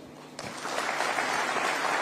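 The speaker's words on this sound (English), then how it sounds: "A round of applause for His Excellency." An audience at the KEPSA 20th anniversary event at KICC Nairobi breaks into applause for the President, starting abruptly after a quiet moment and continuing as a steady, moderately distant clatter of many hands.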